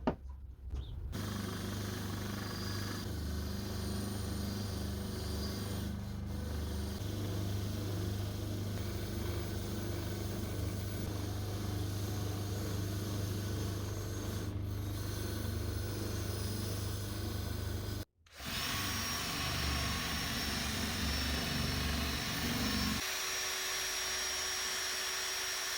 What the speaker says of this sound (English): get that on the wire wheel and see whether we can see anything